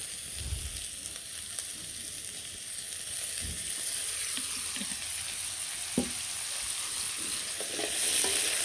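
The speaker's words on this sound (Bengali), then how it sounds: "তারপরেও একটু মানে ভেজে না দিলে আমার ভালো লাগে না, একটু ভেজে দিই" Potatoes fry in a little oil in a pan with an even, close sizzle. Occasional soft scrapes and knocks of stirring sit under the frying, which grows slightly louder toward the end.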